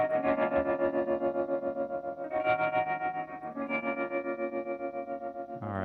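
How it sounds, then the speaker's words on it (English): Optical tremolo from a Gamechanger Audio guitar pedal, a sustained distorted guitar chord pulsing in a steady, even rhythmic throb, loud and alone, with a new chord struck partway through and a final string attack at the end. "This is just the optical, so you can kind of hear this by itself."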